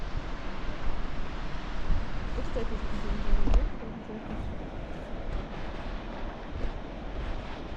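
Ocean waves wash onto a beach beneath the cliffs of Asturias, a steady broadband roar with wind buffeting the microphone, one louder surge partway through, then a continuous wash.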